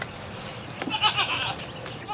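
Goats on a farm bleat in short nasal cries over a noisy outdoor background, with a louder burst near the middle, while a person talks alongside them.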